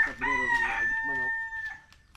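A rooster crows close by in one long, drawn-out call that fades away over about two seconds, against a quiet rural background.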